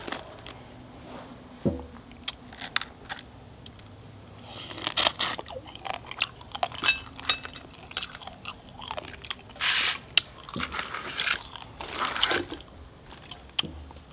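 Someone eats small blue crabs pickled in fish sauce, with close, loud wet chewing, crunching and biting of shell coming in irregular bursts throughout, plus occasional scraping and handling noises and no talk.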